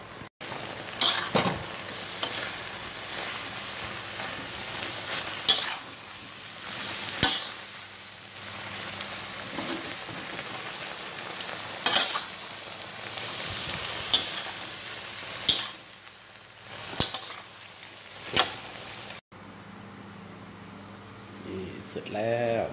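Pork and three-colour bell peppers (green, yellow, red) stir-fried in a pan, with steady sizzling, repeated scraping and clanking of a utensil in bursts, and occasional talk over the cooking.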